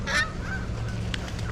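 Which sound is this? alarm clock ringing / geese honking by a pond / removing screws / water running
geese honking by a pond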